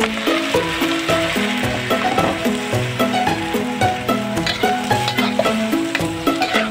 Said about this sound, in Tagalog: ang pagluluto ng ampalaya na may itlog na maalat. Ayan, gusto na yan. Lalagay na natin si ampalaya.